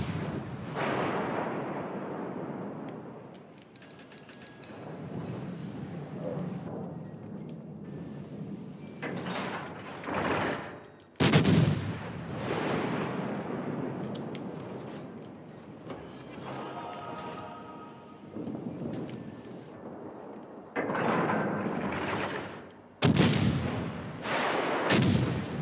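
Battleship guns boom repeatedly in the naval combat game World of Warships, heavy sharp blasts at irregular intervals followed by rumbling decay, with ongoing low background game noise between the salvos.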